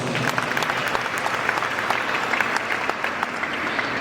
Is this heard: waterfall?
no